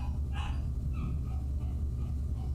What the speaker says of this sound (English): That puppy is so mad.